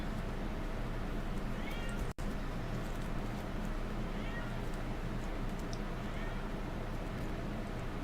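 A few faint cat meows rise over a steady, noisy outdoor background with a low rumble, plus one sharp click partway through.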